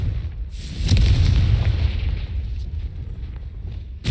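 Confringo explosive spell cast in the Hogwarts Legacy video game: a loud, close blast with a deep rumbling boom that swells and then slowly fades, followed by a sharp pop at the very end.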